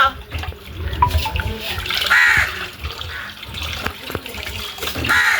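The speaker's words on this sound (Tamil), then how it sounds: "அரிசியை வடிவா கழுவோம்." Tap water runs and splashes while rice is washed in a home kitchen, a fairly close, steady wash of water with occasional louder gushes, and a voice speaks over it now and then.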